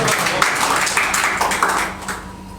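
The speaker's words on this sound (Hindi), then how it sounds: "तो एक बार ज़ोरदार ताली के साथ स्वागत करते सचिन भाई" An audience claps loudly to welcome a speaker at a stage gathering, a dense burst of applause that carries on and then tapers off toward the end.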